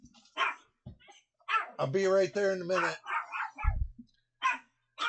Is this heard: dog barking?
yes